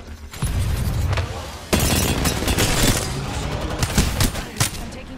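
Heavy exchange of gunfire in the battle royale shooter Apex Legends, dense overlapping shots and sharp cracks with a few louder impacts standing out, continuous and close throughout.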